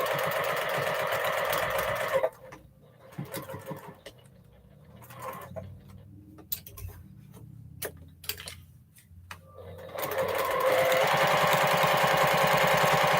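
An early-morning sewing machine runs in long, steady bursts of rapid mechanical stitching, close and fairly loud, broken by a quieter middle stretch with scattered clicks and taps as the fabric is handled.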